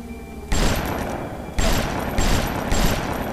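Gunfire in Bioshock breaks out in four loud, close bursts, each sharp onset followed by a sustained rattling tail, with no talk.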